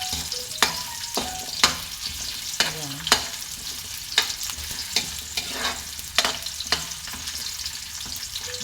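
Vegetables, including carrots, frying in hot oil for chicken caldereta, a steady sizzle with repeated sharp clicks and scrapes from stirring at irregular intervals, close and fairly loud.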